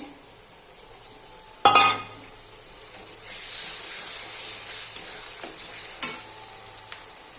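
Onions and green chillies fry in hot oil with spice paste, a steady sizzle broken by a sharp burst as ingredients hit the pan and clinks of stirring against the metal pot.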